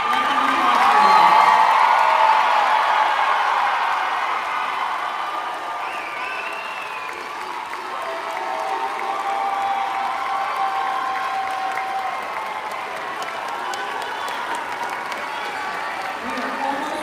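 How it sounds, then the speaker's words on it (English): Families cheer and applaud graduates at a college commencement ceremony, a broad sustained wash of clapping with whoops and shouts mixed in, loudest at the start and easing slightly as it continues. "Graduates, turn around and face your families. Let them applaud for you."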